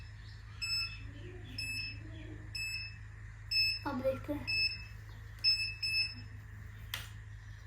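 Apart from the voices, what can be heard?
hair curler beeping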